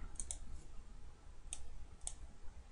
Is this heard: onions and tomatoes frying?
no